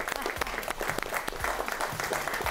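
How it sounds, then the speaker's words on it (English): Audience applause at a state quiz bowl championship, continuous and fairly loud clapping from a crowd throughout, with a few voices faintly audible underneath. "Round of applause to everybody"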